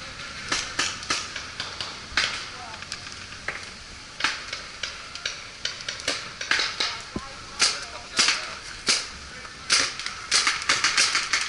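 Paintball markers fire during an outdoor game at a paintball park: sharp, rapid pops come in irregular bursts, some close and loud and others further off, with players calling out between shots.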